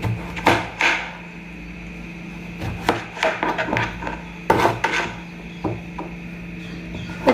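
A knife slices through unpeeled bottle gourd again and again, each cut ending in a sharp tap on the board, with uneven pauses between.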